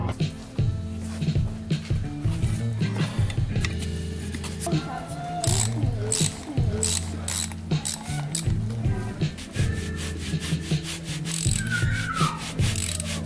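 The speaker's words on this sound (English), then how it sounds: "I'm gonna undo these nuts so I can take this part off with the bearing in there" A ratchet clicks in quick repeated bursts while undoing nuts on the rear sprocket of a KTM Adventure 950 motorcycle, close and fairly loud, with metallic rubbing and small handling noises between runs.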